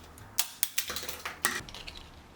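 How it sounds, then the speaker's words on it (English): Several crisp snips of scissors cutting a 15-gram strip of dried kombu kelp, a few sharp clicks up front followed by softer crunchy cuts. "This strip is about 15 grams, so I cut it up using scissors."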